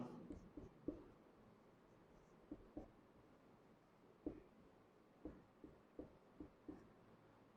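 Writing by hand, heard as faint, sparse pen taps and short scratches that come irregularly over a quiet, low background. Each sound is soft and close.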